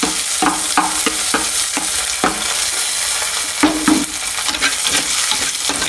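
Onions frying in hot oil for a cuttlefish curry, with a continuous sizzle and frequent sharp scrapes of a spoon stirring the pan, close and loud.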